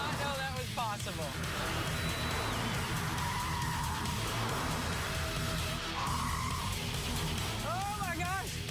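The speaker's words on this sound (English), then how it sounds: "we're smoking the tires on an electric car" Electric car smoking its tires on a racetrack, with squealing and skidding tire screeches rising and falling over a steady drive noise, under excited talking.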